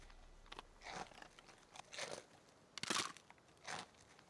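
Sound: crunchy apple spice muffin being bitten and chewed

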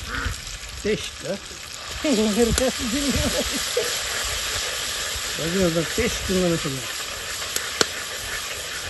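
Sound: ginger garlic paste sizzling in hot oil

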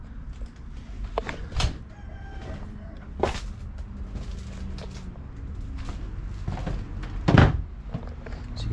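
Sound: chickens clucking

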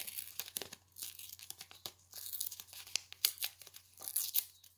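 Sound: paper being torn by hand along a curved line

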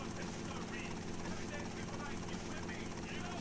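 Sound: helicopter in Vice City Stories video game

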